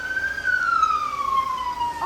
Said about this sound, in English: so that's like the police car siren on the road